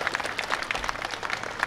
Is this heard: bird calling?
no